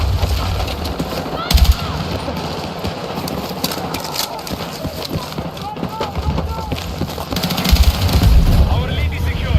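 Battlefield 6 gunfire in a video game match: bursts of rapid shots and heavy low thumps crackle over a dense, continuous battle din, with louder clusters near the start and end, while a voice talks underneath.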